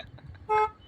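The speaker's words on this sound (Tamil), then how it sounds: "டேய் ஓரத்துல காரு." A car horn gives one short, bright honk on a road in Munnar. It sounds fairly near and stands out over low background noise, and a second honk begins just as it ends.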